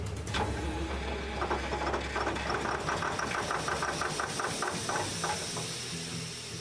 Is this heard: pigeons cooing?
no